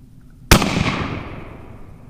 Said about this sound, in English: Just shot a muntjac doe about 60 yards over there.